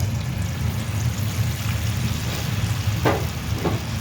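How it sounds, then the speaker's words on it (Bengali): Coated chicken pieces for honey chicken are fried in hot oil, a continuous close bubbling sizzle under a low rumble, with a couple of brief splashy bursts as more pieces slide in. "তো আমি এটা আস্তে আস্তে তেলে ছেড়ে দিচ্ছি"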